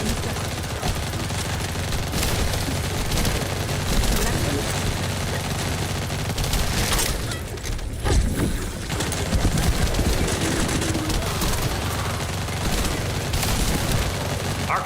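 Continuous heavy gunfire at a Vultus aircraft in The First Descendant, dense rapid bursts and booms layered over game sound, loud and sustained, with a voice speaking briefly underneath.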